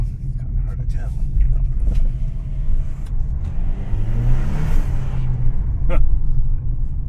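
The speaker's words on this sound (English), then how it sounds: "Today's the first time I actually ever could actually hear the turbo on this thing" A Ford EcoBoost engine heard from inside the car while driving, a steady low rumble with brief rising whooshes of acceleration and spool, moderately loud and continuous throughout.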